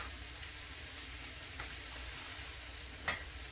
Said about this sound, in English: But I'm gonna add a tablespoon of butter. This is really where you get your browning from.